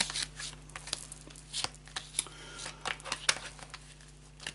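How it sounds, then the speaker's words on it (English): A deck of cards shuffled and cut by hand at close range, with quick irregular flicks and riffles and a few sharper snaps, fairly quiet in a still room. "we just cut the deck there, as you can see"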